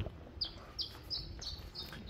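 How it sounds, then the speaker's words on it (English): Birds chirp on a quiet hillside in Gran Canaria near holiday apartments, giving a string of five or six short, bright calls at a steady pace, moderately close, over a soft low outdoor rumble. "Birds are saying it's nice and peaceful and quiet up here."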